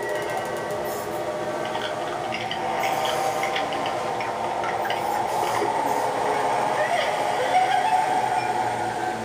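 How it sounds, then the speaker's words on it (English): A struggling, worn-out motor runs badly with a steady rattling, clattering drone that grows slightly louder and rougher toward the end, heard alone at moderate distance. "It isn't gonna lurch anymore because the motor's burning out to make it go back."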